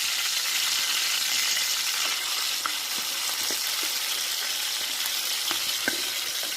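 Onion paste frying in oil for a chicken curry, a steady close sizzle with faint pops and occasional light clinks of stirring throughout.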